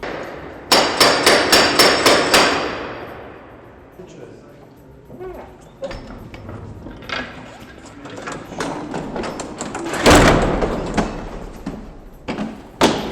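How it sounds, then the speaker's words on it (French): Heavy wooden doors of the Holy Sepulchre basilica in Jerusalem close with a rapid series of loud knocking impacts, followed by softer shuffling clatter and a final heavy thud near the end. "Ses lourdes portes en bois sont fermées."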